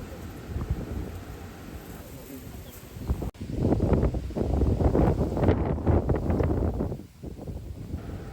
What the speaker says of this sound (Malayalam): തിരിച്ചു വരുമ്പോഴും നല്ല കാറ്റുണ്ടായിരുന്നു.